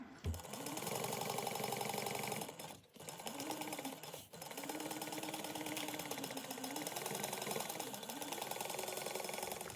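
Sewing machine top stitching fabric for an Oro Rosa Cressida garment, running in a steady continuous whir that pauses briefly twice, close and fairly loud with no talking.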